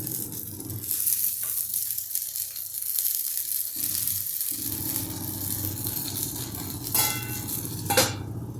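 Potato and puffed-rice cutlets fry in oil on a pan with a steady soft sizzle, broken by a few sharp clinks and scrapes of a utensil near the end.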